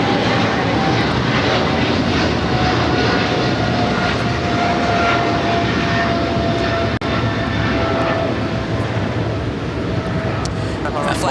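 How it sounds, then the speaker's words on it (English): A China Southern Cargo Boeing 777 freighter at LAX sends out a loud, sustained jet engine roar with a faint whining tone, heavy and close throughout, while voices talk over it. "That flight heading to Shenzhen at China Southern Cargo Flight 446, a 777 freighter."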